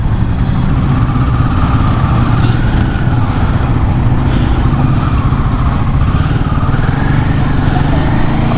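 A Royal Enfield Himalayan 450 motorcycle rides through narrow city lanes, its engine droning loud and steady throughout, with traffic noise and a rider's voice talking over it.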